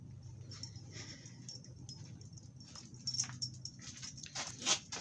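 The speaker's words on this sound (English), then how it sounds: "I'm gonna go get Biddy, my son's dog" A dog indoors making soft whimpers and light yips, with some jingling like a collar or keys, fairly quiet and close, with scattered rustling and a brief louder burst near the end.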